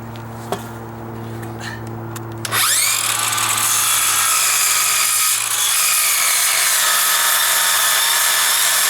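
A power saw cuts into a wooden deck beam with dry rot: a motor whine before a loud, steady, close grinding and cutting sound that runs to the end without talk.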